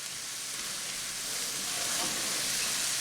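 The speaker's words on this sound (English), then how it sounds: "I'm just trying to stir everything, kind of incorporate all those flavors." Tomato paste and pot roast sizzle steadily in a hot pot while being stirred, with a loud, continuous crackling hiss that swells slightly toward the end.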